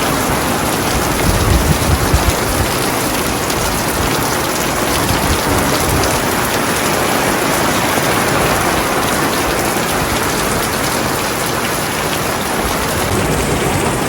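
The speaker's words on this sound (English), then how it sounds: "Finally! Rain!" Steady rain pours down outside a homestead garage, a dense, continuous hiss of drops on surfaces, loud and close with no break throughout.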